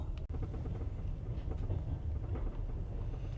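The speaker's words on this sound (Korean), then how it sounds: "지금 기차는 계속 갑니다" A passenger train rolls along the rails between Irkutsk and Ulaanbaatar near Lake Baikal, heard from inside as a steady low rumble with faint rhythmic clatter, moderately quiet and continuous without talk.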